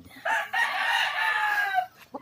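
A big Boston Roundhead gamecock crows once, loud and close, a long ringing call lasting over a second, followed by a short soft cluck.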